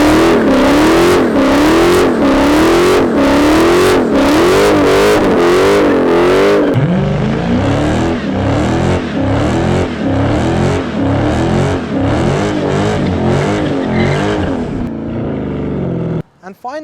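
A Dodge Challenger Scat Pack Widebody with a loud V8 exhaust, first rhythmic pulsing revs in rapid bursts, then a sustained roaring burnout that cuts off abruptly near the end.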